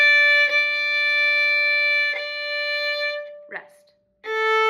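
A violin plays the opening phrase of "Delia" from an up-bow pickup on the third beat: loud, clear sustained bowed notes joined by soft note changes, a short break near the end, then a new note.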